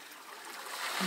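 Rushing stream water drives a mortar mechanism that crushes material, heard as a steady broadband wash of flowing water that builds slightly louder toward the end, with no clear pounding strikes standing out.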